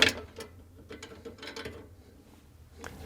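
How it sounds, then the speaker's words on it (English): A 1/4 inch nut driver backs a screw out of a metal coil bracket inside a Whirlpool Maytag freezer, making faint, close clicking and scraping turns with a slightly louder click at the end. "Using a 1/4 inch nut driver, remove the screw."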